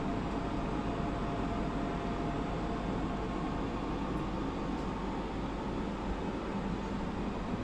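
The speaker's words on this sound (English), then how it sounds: "we've opted for the aircon unit above the kitchen, which is why it's a little bit noisy because I've got it running." Air conditioning unit mounted above the kitchen of a motorhome, running with a steady, even broadband hum and hiss that stays constant throughout with no talk.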